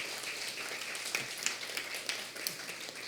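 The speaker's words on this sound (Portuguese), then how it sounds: "Queria pedir uma salva de palmas," Applause from an audience at a formal solemn session honouring a doctor for her autism work, steady moderate clapping continuing without speech.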